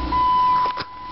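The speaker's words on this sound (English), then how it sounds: "we could turn the engine on here" A 2009 right-hand-drive Jeep Wrangler postal 4x4 is started, a steady electronic chime tone runs over the cranking and settling engine, close and fairly loud.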